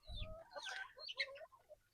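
Backyard flock chickens cluck and squawk nearby in quick, uneven bursts, several birds calling over each other, expecting their morning feed.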